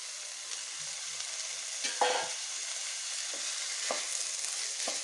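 Rice sizzles softly in a pan while being stirred for butter bean pulao, a steady close frying hiss broken by occasional spoon scrapes and light knocks.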